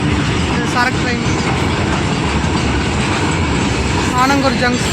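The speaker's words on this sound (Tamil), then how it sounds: "சரக்கு ட்ரெயின்." An Erode-to-Salem freight train rumbles past steadily at Anangur Junction railway gate with a broad, continuous roar, faint wheel squeals rising now and then, and voices talking over it.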